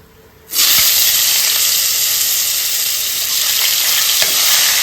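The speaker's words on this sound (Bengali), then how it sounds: "মাছ রান্না করার জন্য যে আলুগুলো দেবো সেটা ভেজে নেব।" Potatoes suddenly hitting hot oil with black cumin seeds already in the pan, bursting into a loud, steady, close sizzle that continues unbroken, with a faint scrape of stirring.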